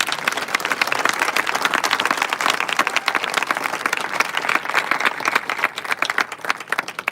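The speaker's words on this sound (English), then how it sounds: "Let's give them one more round of applause" Sustained applause from an audience congratulating new National Honor Society members at an induction ceremony, dense and fairly close, steady throughout with many overlapping claps.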